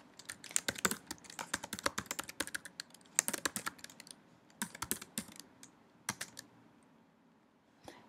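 Fingers tap on a computer keyboard in quick, uneven bursts of light clicks, pausing briefly between runs of keystrokes, close up and fairly quiet against a silent room.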